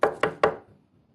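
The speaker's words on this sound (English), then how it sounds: "And he knocks on the door." Three firm knocks on a wooden office door in quick succession, close and distinct, each ringing out briefly before the room falls quiet.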